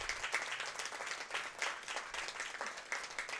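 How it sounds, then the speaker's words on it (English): A crowd at an American Legion baseball game claps steadily for a player, a dense patter of applause without speech. "as the crowd"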